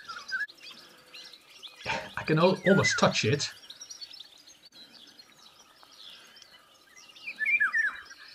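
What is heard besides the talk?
golden oriole calling in Beira, Portugal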